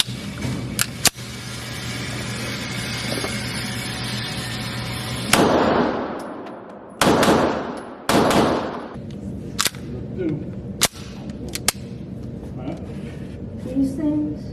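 A West German SIG P226 pistol fired at a range, a series of sharp reports spaced a second or more apart, with steady outdoor background noise.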